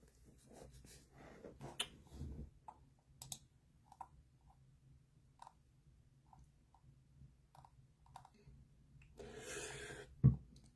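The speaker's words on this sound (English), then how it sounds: "Let me type in that word, furlough." Sparse, light clicks of typing on a computer keyboard, quiet and scattered across the stretch, with a louder rustle near the end.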